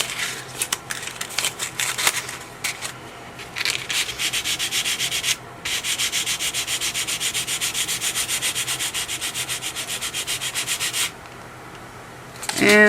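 Sandpaper rubs back and forth over pyrography-burned wood to remove a mistake, a loud, close, raspy scrubbing in quick strokes with a brief pause midway and a longer stop near the end.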